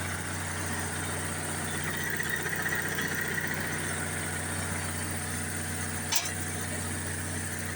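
Onan 4 kW generator engine running steadily at idle, a constant close mechanical drone with vibration and a brief knock near the end, no voices.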